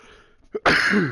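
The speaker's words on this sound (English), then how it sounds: "Pardon me, I had to sneeze again" A quick short inhale followed by a single forceful, explosive burst, close and loud.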